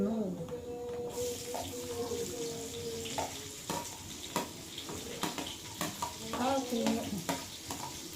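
Food sizzles and fries in a pan with steady stirring and clinks, joined by running-water sounds and brief speech from a nearby voice.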